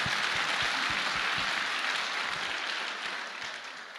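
Church congregation applauding for the Lord, a burst of brisk clapping that thins and fades over a few seconds.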